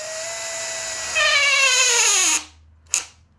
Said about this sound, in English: Now it's quite a soft wood, so I've got the torque setting on the screwdriver set a little bit lighter